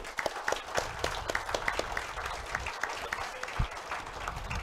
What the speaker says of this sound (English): So we just get a round of applause for them.